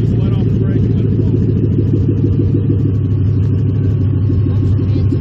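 Toyota truck with a destroyed differential rolling in reverse at a dragstrip, a loud continuous engine rumble with a grinding drone throughout, close, with voices talking over it.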